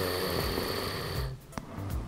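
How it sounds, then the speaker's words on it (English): Loud snoring, a rattling breath lasting over a second followed by a brief snort-like release and a quieter second breath, close up and with no talking. "Topic: snoring."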